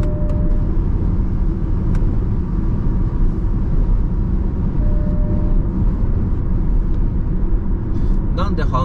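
Inside an electric SUV driving on a highway in a crosswind with the roof shade closed, a steady low road and wind rumble fills the cabin, with a few faint chirps near the end.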